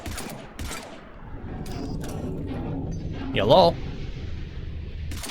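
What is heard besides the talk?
enemies exploding and gunfire in the video game Mass Effect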